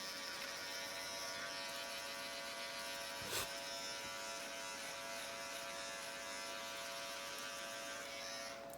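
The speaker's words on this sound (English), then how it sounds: "I'm going to about a 4 on the clippers here" Norelco electric beard clippers set to a number 4 guard trim a short beard, a faint steady buzzing hum with a brief click near the middle, heard alone.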